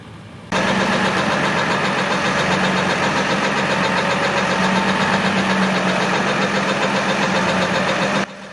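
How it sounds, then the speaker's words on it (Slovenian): Steyr 680 Allrad fire truck engine idling steadily up close, a loud continuous diesel rumble with a faint knocking texture that starts abruptly, holds for about eight seconds, then cuts off. "Na koncu je Jože tovornjaka z urarsko natančnostjo zapeljal v garažo"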